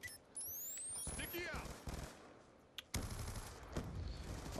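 Bursts of automatic gunfire in the Black Ops 2 video game crackle in quick, dense volleys, with sharp louder shots near the start and middle, mixed with game effects and a voice talking over them.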